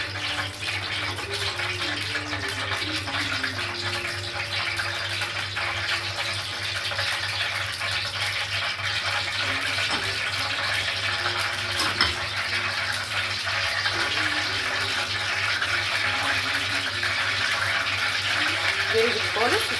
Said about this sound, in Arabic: احط لها بقى ميه ساقعه